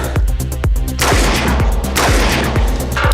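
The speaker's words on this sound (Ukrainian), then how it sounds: "Два постріла." Sharp pistol shots crack in quick succession, several rapid reports with short echoes, loud and close as at an outdoor range.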